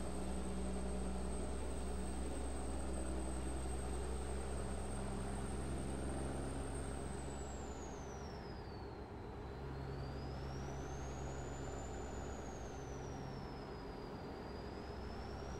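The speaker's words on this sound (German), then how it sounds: "Außer dass wir jetzt gerade einen Caterpillar-Motor fahren." A Caterpillar truck engine in Euro Truck Simulator 2 drones steadily and loudly for the whole stretch, a continuous low rumble with a high whine that dips and rises partway through.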